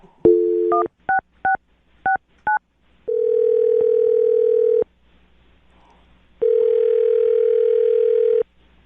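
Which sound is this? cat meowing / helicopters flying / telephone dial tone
telephone dial tone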